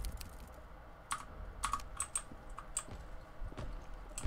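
Soft, quiet keystrokes tap irregularly on a computer keyboard, a steady light clatter over low background noise with no talk.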